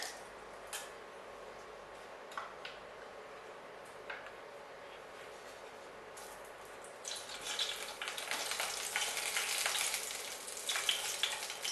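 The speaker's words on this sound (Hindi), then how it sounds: "तेल में ही हम ये चिली पाउडर और हल्दी पाउडर डालेंगे" Spices fry in oil for shahi paneer, starting as a faint, quiet sizzle with a few scattered ticks, then swelling into a louder, denser crackle over the last few seconds.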